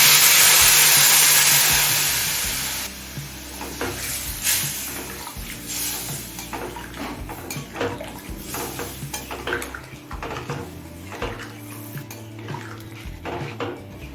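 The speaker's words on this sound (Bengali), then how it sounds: "এখন দিচ্ছি পরিমাণ মতো গরম জল" Hot water pours into a pot of hilsa fish head curry with elephant foot yam, a loud rushing gush at the start that tapers off into clinks and scraping of the pot.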